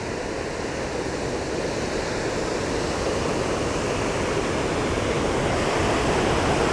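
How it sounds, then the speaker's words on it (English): Kakabeka Falls, a large waterfall in Ontario, roars steadily as a dense, continuous broadband rush of falling water heard from up close, loud and unbroken with no voices. "This is the second largest waterfall in Ontario, next to Niagara Falls"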